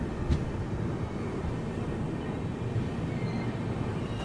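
An Indian Railways long-distance express, the Mhow–Yesvantpur Express, travelling along the line, a steady low rumble with a brief sharper knock early on, heard from inside at moderate level with no talk.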